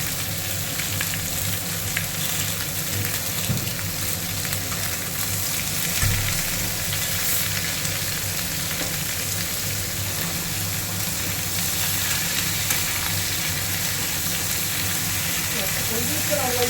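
Ash gourd frying with shiuli leaves in a pan, a dense steady hiss and crackle of hot oil running throughout, close up, with faint stirring scrapes and a brief knock near the middle.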